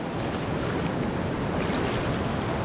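A large river swollen by mining runoff rushes steadily in a rural province, a dense, continuous close roar with no break and no voices.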